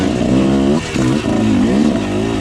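A dirt bike engine revs loudly up close, wavering through several quick throttle blips with rising and falling pitch, heard from the rider's own position on an early-season trail ride.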